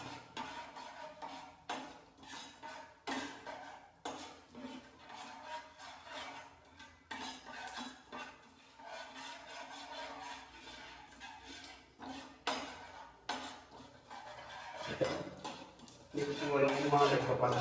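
A utensil scrapes and clinks against a pan as cumin and other spices are mixed for a fish curry, giving rhythmic, close rubbing strokes while a voice talks quietly at times.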